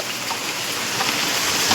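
Heavy rain driven by wind pours down outside a doorway, a dense, steady hiss of falling water heard close and loud without voices.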